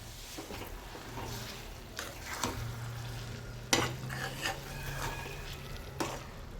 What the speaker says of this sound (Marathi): मस्त आता बटाटे आपण परतून घ्यायचे आहे